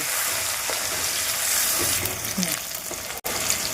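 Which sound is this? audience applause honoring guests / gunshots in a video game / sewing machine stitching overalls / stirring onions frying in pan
stirring onions frying in pan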